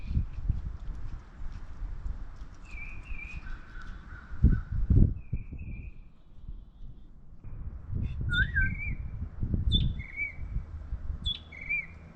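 Birds call outdoors near a campervan at Tobermory, Ontario: repeated short whistled and chirping notes in scattered bursts over rumbling wind and background noise, with a quieter pause partway through.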